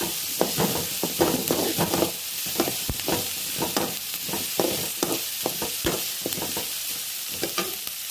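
Sliced onions sizzle and fry in a pan while a spoon stirs them in repeated scraping strokes, the steady hiss broken by rhythmic clanks of the utensil against the pan.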